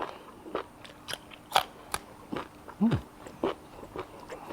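Crisp crunching bites into a fresh chili pepper picked straight from the plant, eaten alongside a Thai beef dish with jaew dipping sauce; a series of separate close snaps and chews, with a few soft murmurs between them.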